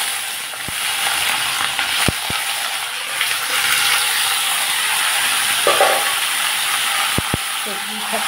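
Vegetables fry in hot mustard oil with black cumin seeds, giving a continuous bright sizzle broken by a few sharp utensil clicks and brief scrapes near the pan.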